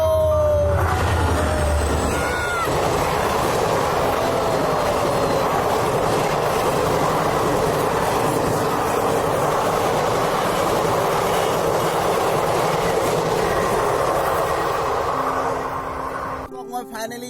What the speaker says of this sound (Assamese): দীঘল এখন ট্ৰেইন আহিছে এয়া চাব আপোনালোকে